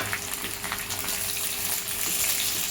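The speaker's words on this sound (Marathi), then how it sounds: "कांदा, गाजरचे काप आणि शिमला मिरची हे भाज्या आपण त्यामध्ये सॉटे करून घेणार आहोत." Sliced onion, carrot and capsicum sautéing in a hot pan for veg noodles, a steady close sizzle and crackle with faint scraping, no voices.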